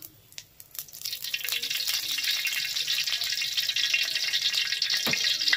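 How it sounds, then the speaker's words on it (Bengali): Chicken fries in oil in a pan, a steady close hissing sizzle that builds after a few light clatters at the start and holds throughout, with an occasional knock. "এবার আরেকটু তেল দিয়ে এবার আমি চিকেনটাকে ভেজে নেব।"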